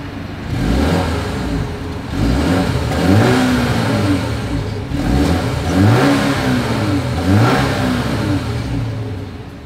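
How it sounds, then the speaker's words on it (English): A 2024 BMW 530i exhaust revs about four times in quick succession, each rise and fall of the engine note loud and close, with a steady rumble between blips and no talking. "As always, here is that exhaust clip."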